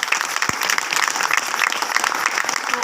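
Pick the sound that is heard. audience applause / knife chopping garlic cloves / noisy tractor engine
audience applause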